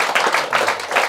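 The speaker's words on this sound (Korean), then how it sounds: "박수 한번 치셔야죠." An audience claps together at a Buddhist dharma talk, a dense burst of hand clapping that stays steady and fairly loud for about a second, close by, with no speech over it.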